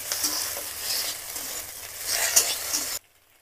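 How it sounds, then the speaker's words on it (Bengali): Ginger paste and grated garlic sizzling in hot oil while being stirred in a pan, a close, continuous hiss with scraping strokes that stops abruptly. "একটু আদা বাটা দিয়ে দিলাম, একটু ভালো করে ভেজে নেবো নেড়ে চেড়ে।"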